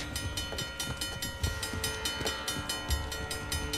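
A train rumbles nearby in the Uncharted: The Lost Legacy video game, a dense steady roar with regular rhythmic clacking pulses, fairly loud and continuous with no voices over it.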